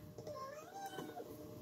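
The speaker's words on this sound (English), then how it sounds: "Wolfie, did you get enough cat food?" A cat meows a few times, short rising and falling cries that are quiet and close, over a faint background hum.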